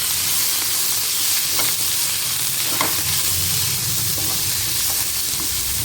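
Capsicum and onion pieces stir-fry in a hot pan for a Pasta Manchurian, a steady broadband sizzle with occasional scrapes of a spatula, close and continuous with no talking.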